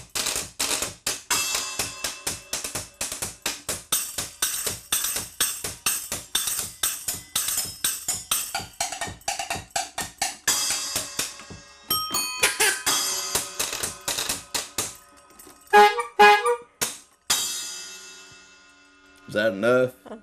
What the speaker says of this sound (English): played the scrub board in the jug band, and it looked a lot like this. This is how it was set up with the bells and horns and whatnot.